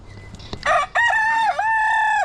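A backyard chicken gives a few soft clucks, then a rooster crows loud and close in a long drawn-out call with no talk.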